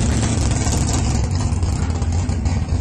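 A Kawasaki Ninja 636 sport motorcycle engine idles loudly nearby, a steady rumbling drone with a slight rough pulse throughout.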